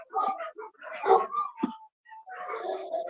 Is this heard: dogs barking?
yes